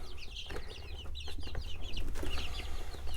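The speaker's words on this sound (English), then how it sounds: "I better shut this before they escape on me and I'm chasing chicks around here" Young chicks and chickens clucking and peeping busily at close range around a tiny off-grid homestead, chirps overlapping continuously over a steady low background hum, with no talking.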